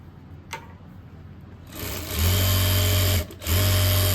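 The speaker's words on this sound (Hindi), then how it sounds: "इस तरह से हम सिलाई लगा लेंगे" A sewing machine stitches a pocket onto white cloth, starting after a quiet pause with a steady loud whirring run, a brief stop, then another burst of stitching.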